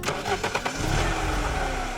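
A classic BMW X6 SUV, serviced for sluggish acceleration, starts its engine: a brief starter crank catches within a second into a loud, steady close-up idle.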